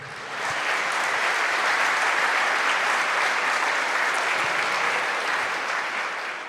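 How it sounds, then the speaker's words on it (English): Audience applause at a re:publica 2023 conference talk, a dense steady clapping that swells in quickly, holds loud and even for several seconds, then begins to taper near the end. "let's please applaud"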